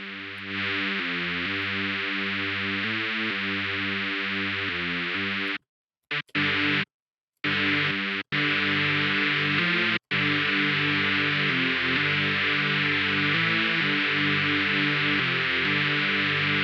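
A distorted hardcore synth built in FL Studio with a filter added, playing a loud, steady rhythmic pattern with a buzzing, effect-heavy tone, cut by a few short silent gaps partway through before it resumes.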